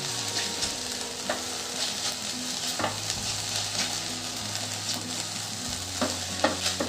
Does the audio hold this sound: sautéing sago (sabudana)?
yes